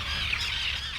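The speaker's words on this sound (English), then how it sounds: "Hundreds of screeching gulls and terns circle overhead." Gulls and terns screech in a dense, continuous overlapping chorus while circling overhead on a Maine island, loud and close.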